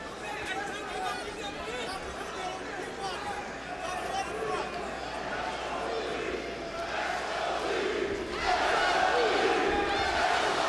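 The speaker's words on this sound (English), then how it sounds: "the crowd cheer from around the Mandalay Bay" Arena crowd at Mandalay Bay during a professional boxing rematch between Andre Ward and Sergey Kovalev: a continuous roar of shouting and chatter that builds louder toward the end.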